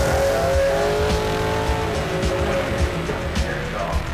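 A four-wheel-drive DTM race car in Gran Turismo 5 is floored, its engine note rising sharply and then pulling through the revs as a voice talks over it.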